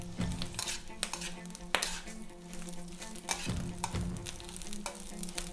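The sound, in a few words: Brussels sprout leaves and cornbread dressing sizzling in electric wok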